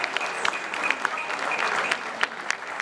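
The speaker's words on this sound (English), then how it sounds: "Let's clap for ourselves." A studio audience at a televised editors' forum claps for Ghana football, a dense patter of hands with a few sharper, louder claps standing out near the end.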